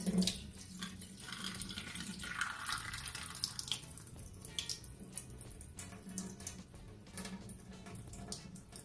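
Tap water running steadily into a sink while Jamaican callaloo is rinsed after the brine is poured off, a continuous close splashing stream with small drips and no talking.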